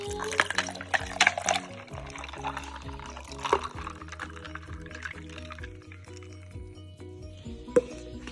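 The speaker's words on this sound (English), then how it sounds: "Pour my drink in." Milk tea pours into a cup already holding boba, with gurgling splashes, starting strong then easing off, over a soft background of music.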